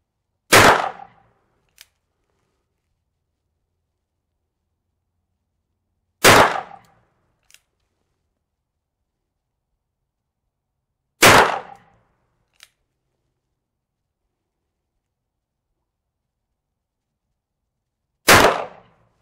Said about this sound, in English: Shoots like a champ out of this Ruger Blackhawk.